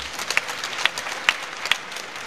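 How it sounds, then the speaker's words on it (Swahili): A crowd at a Tanzanian government address claps for the President, a steady wash of many hands with a few sharper peaks, moderately loud and continuous throughout. "Naombeni mpigeni makofi sana Mheshimiwa Rais"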